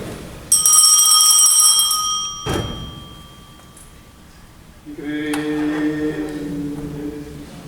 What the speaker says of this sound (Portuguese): o momento que você faz tocar o sino e a ressonância